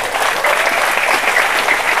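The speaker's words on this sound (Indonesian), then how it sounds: "Oke, tepuk tangan dulu dong." An audience at a spiritual talk applauds in a dense, steady wash of clapping that stays loud and even for the full two seconds.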